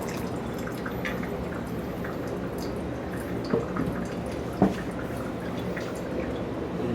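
Hot water drips through a paper filter in a Chemex 8-cup coffee maker while it is pre-warmed: a few faint, sparse drips over a quiet background hum.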